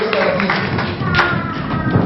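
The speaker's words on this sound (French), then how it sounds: "acclamons fortement pour le royaume" A church congregation claps loudly in acclamation, a dense, continuous wash of applause lasting about two seconds with voices and cheering mixed in.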